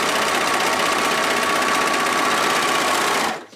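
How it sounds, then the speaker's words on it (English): Serger running fast and continuously while stitching a seam in stretchy cotton lycra jersey, giving a dense, even mechanical whir close up that stops abruptly at the end. "I'm just going to run it through my sewing machine, or sorry, my serger."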